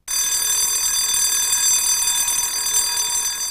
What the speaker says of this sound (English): what if you're in your hotel room at night and the alarm really does go off?